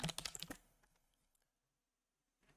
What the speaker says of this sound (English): In the search bar, type refund